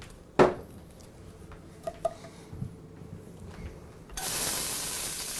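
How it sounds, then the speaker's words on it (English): Chopped onions tossed into a pan of hot olive oil, a sharp clatter followed by a few small knocks, then a steady sizzle rising and holding at the end, close and fairly quiet. "I'm just going to add a tablespoon of olive oil to this pan and I'm just going to throw the onions in"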